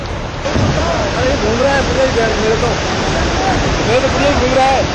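Fierce river torrent of floodwater in Rajasthan after heavy rain, a loud steady rushing roar close by, with faint wavering tonal sounds riding above the water throughout.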